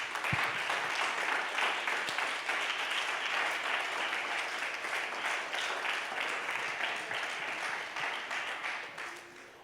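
A church congregation gives strong applause during a worship service, a thick, continuous wash of many hands clapping, steady throughout and fairly distant.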